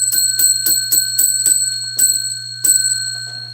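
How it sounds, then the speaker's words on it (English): A small bell rings in about ten quick, bright strikes. The first six come in a fast, even rhythm, then a few more follow after short pauses. Each strike is close and clear with a short ringing tail, and no one talks. "I got to ring the bell 10 times for you."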